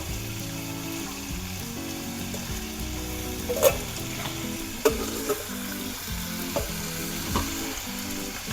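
Oil sizzles steadily in a hot pan, a close continuous frying hiss broken by a few sharp ticks and pops.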